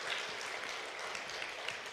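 Church congregation applauding, a soft, distant, even patter of many hands clapping that continues steadily for two seconds.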